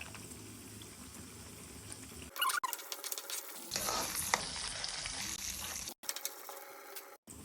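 Chana dal, urad dal, peanuts and cashews frying in oil in a pan while being stirred: a steady close sizzle that swells into louder crackling bursts, with brief pauses between.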